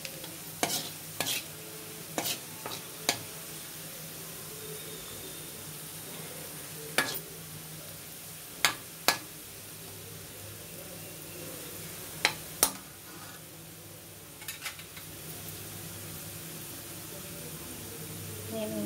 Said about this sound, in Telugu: మరి చిన్నపాయలు వేగినవి, నేను ఇప్పుడు దీనిలో జీడిపప్పు వేసేస్తున్నాను.